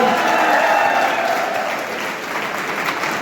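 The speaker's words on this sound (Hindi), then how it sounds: "पूरे ऑफिसरों के लिए जोरदार तालियां हो" A crowd at a rally of unemployed job-seekers in Jind claps loudly for a group of officers, dense applause that starts strong and eases slightly while staying sustained, with faint murmuring mixed in.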